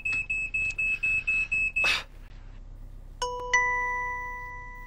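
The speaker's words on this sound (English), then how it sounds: "Jim, thank goodness for my smoke alarm." An alarm gives a quick series of about eight shrill beeps, followed by a rushing burst and then sustained electronic tones, with no talking.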